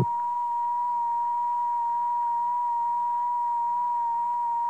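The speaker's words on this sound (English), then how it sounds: "But this is how a laser might sound." A single pure electronic tone represents the imagined sound of coherent laser light, steady and unwavering at one pitch, moderately loud and alone throughout.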